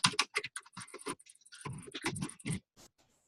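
Fast, close typing on a computer keyboard while entering data, clicking in dense irregular bursts for about two and a half seconds before a couple of final taps and silence.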